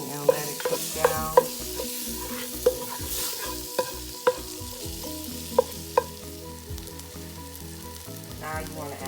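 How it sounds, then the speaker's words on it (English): A vegan chickpea and potato curry is stirred in a pot, a spoon scraping and knocking against the pot in repeated strokes over a soft background sizzle, close and clear with no voices. "Mix everything and let it cook down"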